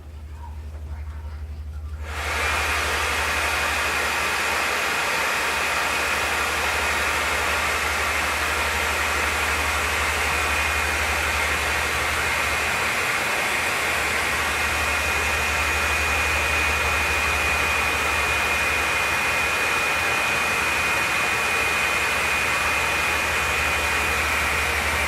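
A hair dryer blows on wet watercolor paint, switching on after a couple of seconds and then holding a loud, steady, close roar with a faint high whine and low motor hum for the rest of the time, with no voices.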